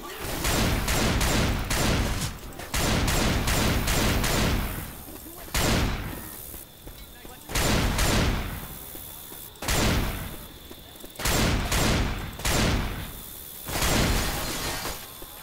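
Pistol shots from the Left 4 Dead 2 Dark Carnival level, a series of sharp loud bursts in clusters of rapid cracks separated by short pauses, with a steady high tone running beneath throughout.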